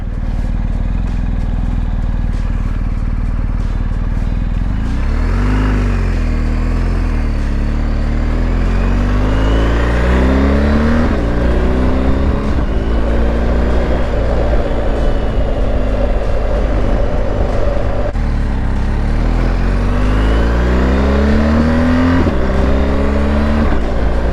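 A BMW R 1250 GS motorcycle accelerates hard and loud up close, its engine note climbing repeatedly with quick, seamless quick-shifter gear changes, each upshift dropping the pitch before it rises again under steady wind roar.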